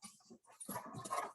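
A pet dog whimpers and whines in short, uneven bursts at close range, the cries rising and falling with brief pauses between them and no talking over them.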